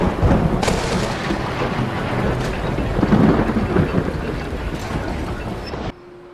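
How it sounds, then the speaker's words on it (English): Deep rolling thunder over steady rain from Skyrim weather mods near Markarth, a low rumble swelling and fading throughout, with a brief pause before a quieter stretch at the end. "The thunder and lightning that we are hearing here, I guess not really seeing, is from the mix of different mods"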